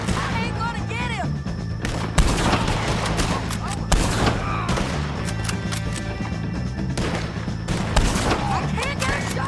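Heavy gunfire in the video game Red Dead Redemption 2 during a fight with O'Driscolls: dense volleys of close, loud shots and scattered single cracks over a noisy battle, with talk mixed underneath.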